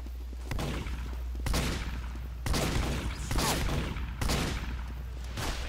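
Gunfire in the video game Team Fortress 2 sounds as dense, sustained bursts of rapid shots that start and stop several times over a low rumble.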